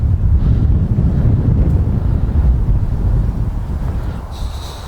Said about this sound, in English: because the wind is pretty strong